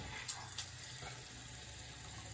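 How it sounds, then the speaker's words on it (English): Water runs from a newly installed bathroom vanity faucet as a faint, steady hiss that carries on without a break. "Water's coming out."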